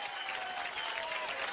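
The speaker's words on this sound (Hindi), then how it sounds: "परिणीति के लिए एक बार जोरदार तालियां हो गए।" An audience at a televised comedy show applauds a guest, giving a brief, soft burst of even hand clapping that lasts about a second and a half.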